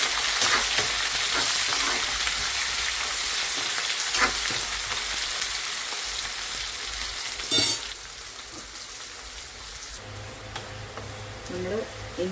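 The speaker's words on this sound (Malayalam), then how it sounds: "നമ്മൾ ഇഞ്ചി, വെളുത്തുള്ളി, പച്ചമുളക് ഇട്ടിട്ട് നമ്മളൊരു ഗോൾഡൻ ബ്രൗൺ ആകുന്നവരെ മൂപ്പിച്ചു." Ginger, garlic and green chili frying with curry leaves in oil for a Kerala dates and lemon pickle, a loud, busy sizzle with stirring and a sharp clink of a utensil partway through, fading near the end as speech begins.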